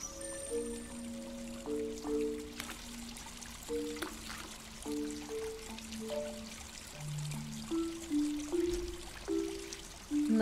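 Trickling, pouring water from a waterfall in an indie video game runs steadily through the whole stretch, layered under soft melodic game tones with a few brighter splashes and no talking.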